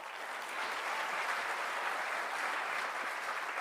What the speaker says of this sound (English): One more round of applause, ladies and gentlemen, for that inspiring, enlightening, challenging, beautiful speech on breaking boundaries